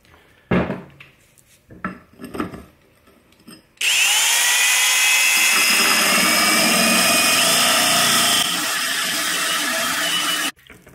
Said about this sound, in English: as I'm drilling this, I actually rotate the drill around just slightly